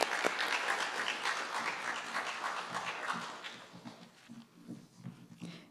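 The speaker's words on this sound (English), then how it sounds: "Please join me in thanking them with a round of applause." Audience at a high school National Honor Society induction ceremony giving a round of applause, dense clapping that fades out over the last couple of seconds, leaving scattered sparse claps and a few small dog-like whimpers.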